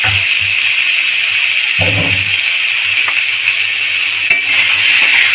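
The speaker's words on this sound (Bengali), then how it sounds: "হলুদ দিয়ে নেড়ে চেড়ে নেবো।" Ridge gourd frying in a pan with salt and turmeric, giving a steady loud sizzle throughout, with a brief low scrape from a stirring spoon partway through.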